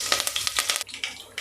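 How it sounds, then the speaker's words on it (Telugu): Sliced onion frying in oil with mustard seeds and curry leaves for Rayalaseema-style stuffed brinjal curry, a series of sharp crackling bursts and spatters at uneven intervals over a hissing bed, close and moderately loud. "వేసి కొద్దిగా ఆనియన్ రెడ్గా వచ్చేదాకా వేయించుకున్నాము."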